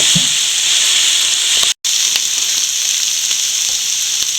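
Soya chunks fry with spices in a hot pan, giving a loud, continuous close-up sizzle and hiss that breaks off once briefly before resuming.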